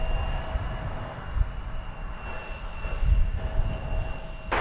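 Airliner taking off from runway 36 right at DFW Airport, a steady distant engine roar with a faint whine, heard from afar over continuous rumble.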